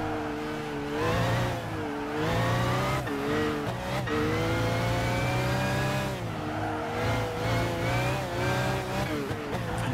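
Car engine in the Gran Turismo 5 racing game revving steadily through gear changes, with rising and falling pitch sweeps and brief lifts off the throttle, loud and continuous for the whole stretch.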